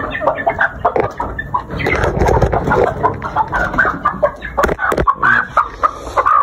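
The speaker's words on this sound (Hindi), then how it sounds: "तो मुर्गी को अब हम बाहर निकालते" A hen clucking close by among other fowl. The busy, continuous clucking and squawking runs throughout, with no clear talk over it.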